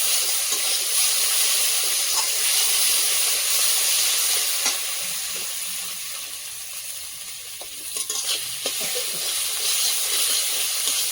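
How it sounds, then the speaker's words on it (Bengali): Spice paste fries with salt in a pan, giving a steady close sizzle and hiss with occasional stirring scrapes, easing slightly before bubbling up again, no voices. "লবণ দিয়ে মশলাটাকে ভেজে নেব"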